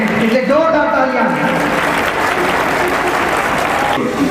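At a school Foundation Day and Grandparents Day celebration, a large audience breaks into loud, dense applause that fills the hall continuously, with a voice speaking over it at the start.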